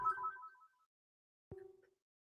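A home landline phone rings faintly in the background, two short electronic ring bursts separated by a pause in an otherwise quiet room.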